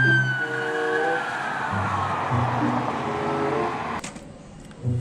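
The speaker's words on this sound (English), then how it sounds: "Whoa, a powerful police truck. Hey, I mean, it's a police car." Toy police car siren, a wailing tone held steady over a constant whirring hum, loud and close for about four seconds before it cuts out abruptly.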